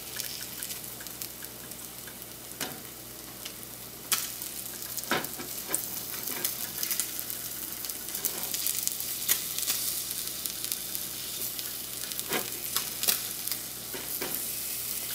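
A garlic parmesan Spam sandwich frying in a pan, with a continuous crackling sizzle and scattered pops and spatula scrapes over about fifteen seconds, no speech.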